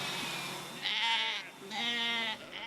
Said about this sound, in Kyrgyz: бул огород тилкесине койлор дронду ээрчип келе жатат